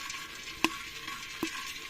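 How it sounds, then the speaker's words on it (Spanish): Quiet sizzling and rustling of corn kernels toasting in a pan, with two sharp pops standing out from the steady hiss as kernels begin to burst. "Cuando suena así es porque está empezando a reventar la canchita"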